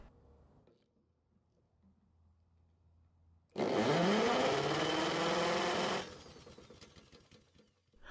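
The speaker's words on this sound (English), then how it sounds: "I'm also going to use a drill to turn the engine over to override the compression release and get a true reading." A drill spins a lawn mower engine over for a compression test. It gives a loud, even, buzzing whir that lasts about two and a half seconds, with near silence before and after.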